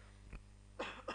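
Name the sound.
cough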